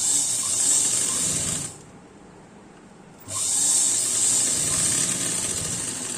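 Sewing machine running fast while stitching folded pant fabric, a close steady whirring hum that cuts out for about a second and a half in the middle, then resumes, no talking.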